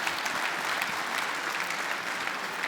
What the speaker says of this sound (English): Yes, I think that deserves a round of applause.